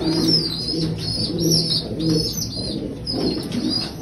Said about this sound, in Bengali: এটাও টেডি পায়রা।